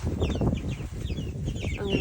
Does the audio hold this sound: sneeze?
no